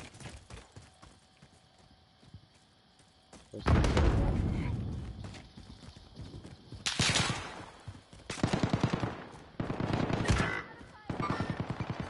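Gunfire in a Call of Duty-style battle royale game: loud bursts of automatic fire arrive in several spaced volleys, mixed with in-game sound effects.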